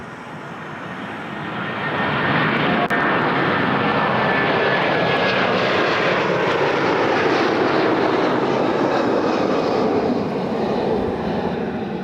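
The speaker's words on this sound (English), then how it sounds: "This is an A330-200 headed to Glasgow." An Airbus A330-200 airliner roars past at Toronto airport, a loud broadband jet engine rumble that swells within two seconds and holds steady and close, with no voices over it.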